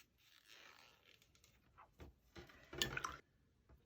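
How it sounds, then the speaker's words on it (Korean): A watercolor palette is wiped clean during a painting session, giving quiet, close rubbing and swishing strokes with a few sharper scrapes, the loudest burst coming near the end. "팔레트를 좀 닦고"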